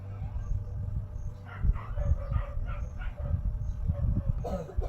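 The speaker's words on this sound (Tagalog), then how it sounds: "Pati yung mga aso guys, napakaingay." Several sharp dog barks ring out in a loose series at a middle distance, over a low background hum and faint chatter.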